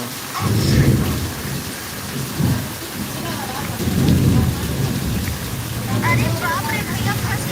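Heavy rain pours steadily with water rushing off a flat rooftop, a dense continuous roar with low rumbling swells and faint voices now and then underneath.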